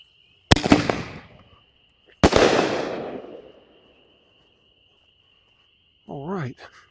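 Two sharp firework shell bursts with color change, one at the start and a second a couple of seconds later, each booming loudly then decaying into a crackling tail; a steady insect-like whine runs underneath and a voice briefly speaks at the end.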